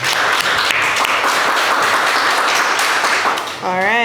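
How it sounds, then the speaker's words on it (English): Loud, dense applause from a crowd fills the space, then fades as a voice begins speaking at the end. "Give her another applause."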